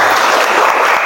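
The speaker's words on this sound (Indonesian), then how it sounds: "Oke, tepuk tangan dulu untuk semuanya." Brief burst of loud, dense clapping from a classroom of students, close and continuous without pauses.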